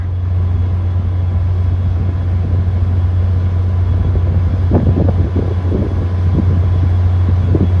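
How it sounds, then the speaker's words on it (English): A steady low mechanical hum of a passenger locomotive's head-end power generator drones throughout, with faint rumbling and occasional soft knocks over a constant background. "The only noise you hear is that of the HEP generator in the back."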